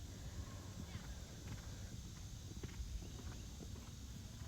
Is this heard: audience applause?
no